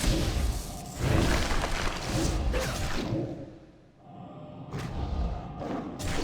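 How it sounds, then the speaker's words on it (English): An arcane explosion spell is cast in the World of Warcraft video game, a loud, dense burst of whooshing and booming magical impact that rolls on for several seconds, briefly drops away, then swells again. "arcane explosion."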